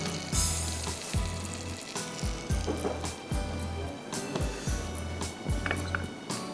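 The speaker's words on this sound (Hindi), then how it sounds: "ज़रा सी चॉप्ड अनियन डाल दीजिए" Chopped onion frying in a couple of ounces of butter, a steady crackling sizzle with brief stirring scrapes, fairly close, with a low rhythmic hum running beneath.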